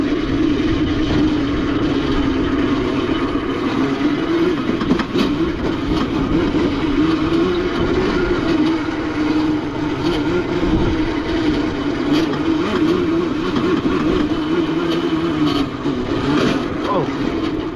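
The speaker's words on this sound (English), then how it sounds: "try and follow Scott on his farm bike" A farm bike ridden across hilly farmland gives a steady, fairly loud engine drone that carries on without a break, mixed with rumbling wind and ride noise.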